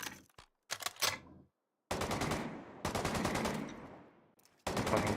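Pistol fire in the video game The Division 2: a few quick separate shots, then longer rattling strings of rapid rounds broken by short pauses, close and sharp, with no talking.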